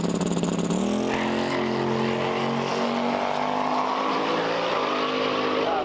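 The Mt Dew no-prep race car launches hard in first gear, a loud engine note climbing steadily in pitch as it pulls away, with possible tire noise, and no talking.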